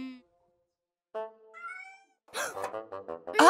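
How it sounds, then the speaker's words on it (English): A cartoon kitten gives a couple of short, high, tuneful meows, moderately loud after a brief pause, and a voice starts talking right after. "Where's that kitten gotten to?"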